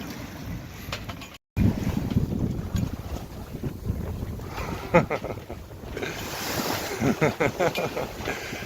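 Wind buffeting a sailboat at sea, a steady rushing roar with gusty surges against the microphone and faint water noise underneath.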